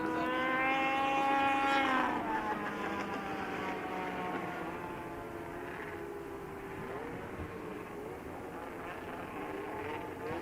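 Racing snowmobile engines at a world championship snowmobile derby, a loud high-pitched whine that rises and falls at close range, then settles into a steady sustained drone.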